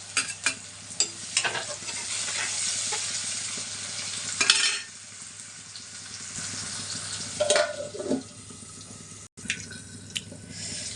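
Onions fry in a pan while okra fry is being made, giving a steady soft sizzle with occasional stirring scrapes and small pops throughout.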